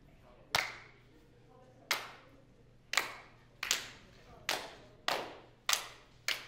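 Single sharp handclaps travel around a group in a theater warm-up exercise, seven or eight distinct crisp claps at slightly uneven intervals, each followed by a short room echo, with quiet room tone between.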